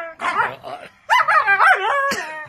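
Several dogs barking and yipping close by indoors, sharp overlapping barks in two bursts with whiny, whimpering tones between them.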